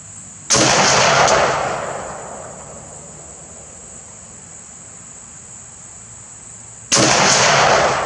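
Two sharp, loud K1A1 rifle shots fired at a range, one near the start and another about six seconds later, the first trailing off in a long decaying echo, with faint insect-like buzzing between them.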